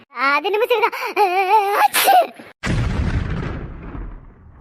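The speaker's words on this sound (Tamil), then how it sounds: "நான் தும்புனேன்" A child's loud sneeze, an abrupt broadband burst after a stretch of sing-song speech, with a crackly tail that fades out as talk pauses.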